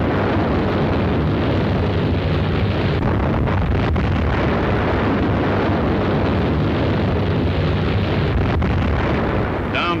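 A continuous, heavy roaring rumble fills the whole stretch, loud and dense like sustained blasts and fire aboard a ship, with no clear pauses: internal explosions rocking the aircraft carrier USS Franklin after a kamikaze attack.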